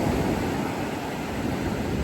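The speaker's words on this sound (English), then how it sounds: "Uh-oh, the water's coming in." Waves wash in on a New Zealand beach, a steady, broad rushing surge, loud and close, blended with some wind noise on the microphone.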